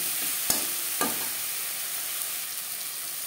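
Turmeric and salt fry with tomato in an oily pan for a fish curry, a soft continuous sizzle broken by a couple of sharp spatula taps and scrapes, with no talking.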